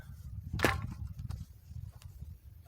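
A single sharp axe strike on mesquite wood, followed by a couple of fainter knocks, quiet and close.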